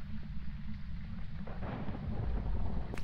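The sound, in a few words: thunder in the video game Phasmophobia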